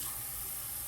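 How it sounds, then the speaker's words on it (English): Water runs steadily into a small container from a tap, a continuous close hiss and trickle with no voices over it. "Then you want to put some water in a little container."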